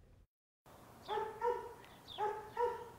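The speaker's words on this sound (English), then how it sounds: "He just barks the entire time because he wants out of his kennel" A shelter dog in its kennel gives two clear bursts of barking, each made of a couple of sharp, close barks. There is a brief gap of silence before the first burst.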